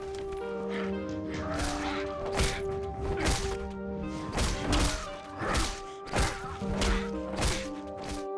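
Repeated heavy thuds of a pistol striking a zombie's head land in a steady rhythm over a droning music bed, each blow dull and close.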